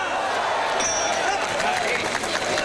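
Arena crowd at a Muay Thai bout between Saimai Chor Suananant and Muslim Cevir, a dense steady roar of cheering and groaning from many spectators that swells briefly, with a commentator's voice running underneath.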